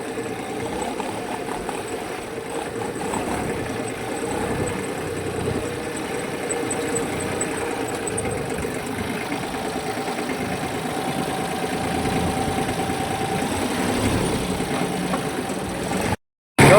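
A tractor engine chugs at a steady idle throughout, a low rhythmic rumble with no talking, cutting out briefly right at the end.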